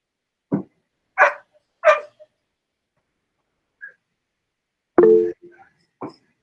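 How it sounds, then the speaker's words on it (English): A pet dog barks indoors in short, loud, separate bursts, about four barks with a couple of small yips between them, heard alone without talk during a home video call. "Is that your dog, Liz?"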